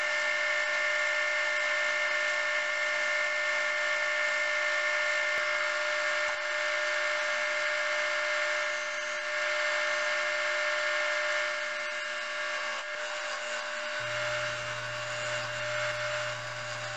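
A woodturning lathe spins a bowl blank while a sharp heavy round nose scraper cuts it, giving a continuous steady motor whine and tonal hum with a constant scraping hiss, close and even, with a shift in pitch near the end.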